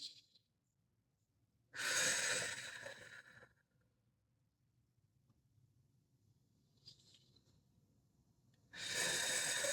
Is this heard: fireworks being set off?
no